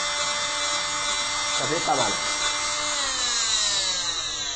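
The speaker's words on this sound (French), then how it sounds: "la scie à plâtre ne coupe pas, en revanche elle vibre" An oscillating cast saw vibrates against a plaster cast, giving a steady, loud, continuous buzzing whir throughout while a person speaks briefly over it.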